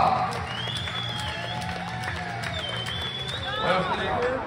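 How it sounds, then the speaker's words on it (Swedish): The crowd at a handball match between Alingsås HK and Tumba HK applauds and cheers for a player, with a dense wash of clapping and shouting in a large echoing arena. Voices and whistles sound throughout. "Stor applåd för Tuva!"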